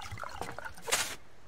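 Water pours into a container in the survival game Subsistence, a short splashing trickle building to a brighter gush near the end before cutting off, heard alone and fairly quiet.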